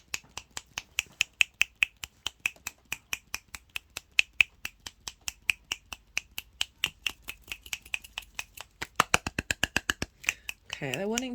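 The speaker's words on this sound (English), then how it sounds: "So with the clapping, I'll try not to talk so you can hear me properly." Hands clap sharply and steadily during an energy-work session, dozens of crisp, close claps in an even rhythm that quickens near the end, with a voice briefly speaking at the close.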